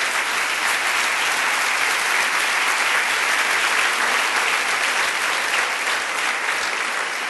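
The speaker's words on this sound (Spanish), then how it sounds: "denle una prenda de palmas al Señor" A church congregation applauds during a sermon, a thick, sustained roar of clapping from many hands, loud and unbroken for the full stretch.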